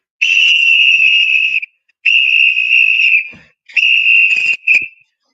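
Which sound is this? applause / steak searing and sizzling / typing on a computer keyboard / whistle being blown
whistle being blown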